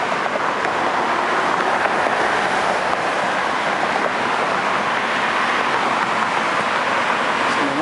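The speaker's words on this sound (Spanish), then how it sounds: "Vamos a cruzar la calle, vienen muchos carros." Busy street with many cars passing, a loud continuous roar of tires and engines that swells and blends without clear gaps between vehicles, with no talking.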